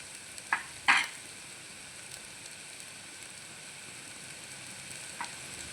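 Tomato rice masala is stirred in a pan under a low, steady sizzle, with a couple of sharp utensil clinks near the start and one faint tap later, quiet and close.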